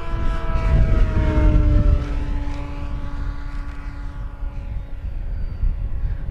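An FMS de Havilland Beaver 2000mm V2 electric RC model plane flies inverted past the listener, its steady propeller drone loud at first, then dropping in pitch and fading as it moves away. No one speaks.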